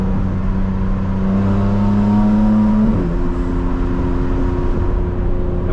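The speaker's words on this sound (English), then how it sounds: "You can really hear the intake with the burbles off, especially when you're on the throttle and then you let go, and then the downshift as well." Loud, steady engine and intake drone heard from inside a 2025 BMW M4 Competition with exhaust burbles switched off. The pitch steps abruptly at a gear change midway, then the engine drones on.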